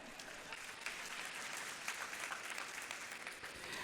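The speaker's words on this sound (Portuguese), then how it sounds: "Uma salva de palmas para mim." A congregation gives a dense round of applause for the preacher during a sermon, a steady wash of many hands clapping at even loudness throughout.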